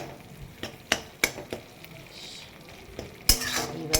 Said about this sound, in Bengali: এবারে ভালো করে কষাবো যতক্ষণ না তেলটা ছেড়ে আসে